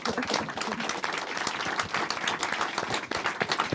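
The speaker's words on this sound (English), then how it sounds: "So can we give them a round of applause?" An audience at an animation festival Q&A applauds the filmmakers with a sustained, even round of many hands clapping close by, steady throughout with no speech on top.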